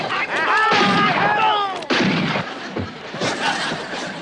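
Wartime gunfire in a comedy war scene, bursts and cracks echoing loudly across about four seconds, with a whistling, sweeping tone early on and a sharp impact near the midpoint, continuing under background commotion.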